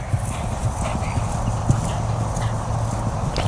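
Arabian horse cantering in a versatility competition arena, hoofbeats thudding in a steady three-beat rhythm at moderate distance, with a faint background hum throughout.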